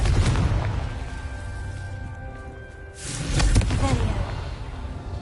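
The Confringo fire spell in the Hogwarts Legacy video game goes off as a pair of loud, booming bursts about three seconds apart, each followed by a rumbling decay.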